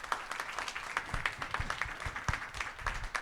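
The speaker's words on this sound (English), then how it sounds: "let's please welcome Horacio with a warm round of applause." Audience applause at a democracy conference, a modest, somewhat sparse patter of hands clapping with individual claps standing out, fairly quiet and steady throughout.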